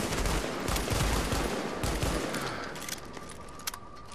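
Near-continuous gunfire from a weapon in the video game The Division, loud bursts of shots running throughout with a few sharper cracks near the end, no voices.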